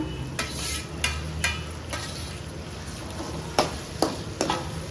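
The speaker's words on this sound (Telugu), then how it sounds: "పసుపు మగ్గిపోయింది కదా అందులో ఇంకా టమాటా ముక్కలు అయితే వేస్తున్నాను అనమాట" Tomato pieces frying with turmeric in a pan, a steady sizzle underneath with several sharp spatula scrapes and taps spaced through the clip, close and fairly loud.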